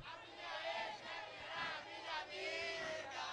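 A crowd of women at a live party show screams and cheers together at a lively event, a dense, sustained roar with rising and falling swells and no clear break.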